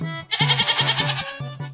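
A male goat of a Nawabi breed bleats in a Pakistani comedy drama, a close, nasal, wavering cry that pulses rapidly for about a second and then breaks into two shorter bleats, with no talk over it.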